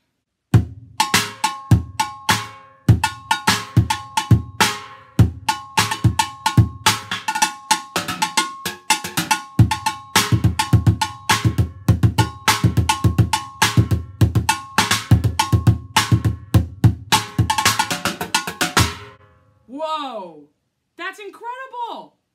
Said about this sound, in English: you tell me if you think it sounds like a real drum set